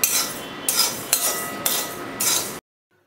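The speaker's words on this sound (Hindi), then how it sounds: "सबसे पहले 50 ग्राम खड़े धनिए को ड्राई रोस्ट करेंगे, भून लेंगे" Whole coriander seeds are dry-roasted in a pan over a gas flame, giving five rattling, scraping bursts of stirring in a steady rhythm, close and clear, before sudden silence.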